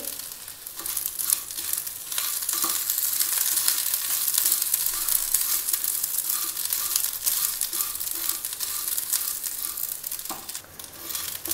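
Coconut pieces fry in hot oil in a pan while chicken curry is prepared, giving a steady, continuous sizzle close by, with occasional stirring scrapes and no talking.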